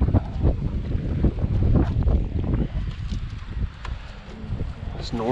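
A north wind gusts over a boat out shrimping with cast nets, a loud broadband rush of buffeting microphone noise that swells and eases, with faint voices mixed in beneath.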